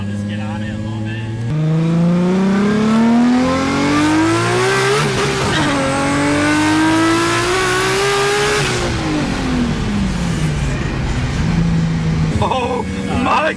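An RB26-swapped Datsun 240Z making 700 wheel horsepower accelerates hard, its engine note climbing steeply through the revs, dropping at a shift, then climbing again before easing off, loud and close from inside the car with people talking over it.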